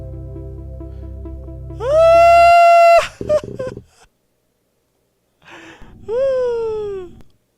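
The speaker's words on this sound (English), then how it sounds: "That's the sound of my game crashing." The Kerbal Space Program video game crashes with a glitchy buzz, then a loud rising, squealing tone that cuts off abruptly, followed by stuttering noise, a pause and a second falling squeal.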